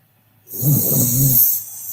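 A person in a mattress advertisement snores once in a single loud, drawn-out rasping breath that begins abruptly after silence and then trails off.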